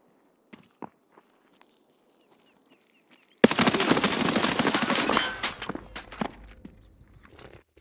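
A burst of automatic gunfire in the shooter game Escape From Tarkov erupts suddenly after near silence, a loud rapid stream of shots lasting about two seconds, then a few scattered echoing shots and faint steps.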